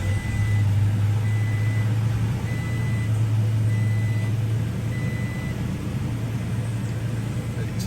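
Third-generation Toyota Tacoma pickup engine running after an oil change, a steady low idle hum with faint intermittent chime tones above it, no voices.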